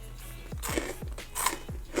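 Crunchy Trader Joe's mochi rice nuggets are bitten and chewed in a quiet room, giving several faint, sharp crunches in an uneven rhythm, close to the mouth with no talking.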